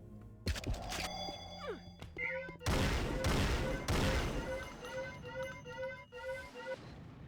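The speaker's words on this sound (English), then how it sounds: "This exploding wall." Exploding wall effect in Unreal Editor: a sharp crash followed by a burst of crumbling debris, thuds and clattering pieces, then a trailing tonal hum, fairly loud and close.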